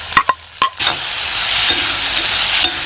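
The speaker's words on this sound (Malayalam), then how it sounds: "ഇത് നന്നായിട്ട് വറുത്തെടുക്കുക" Chopped onion and pumpkin sauté in a pan for chammanthi, opening with a few sharp spoon taps and scrapes before settling into a loud continuous sizzle with occasional stirring.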